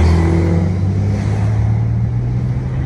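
A pickup truck engine labours steadily while towing a heavily loaded gravel trailer on a bumper-mount hitch, giving a loud, continuous low drone with a strong hum throughout and no talking.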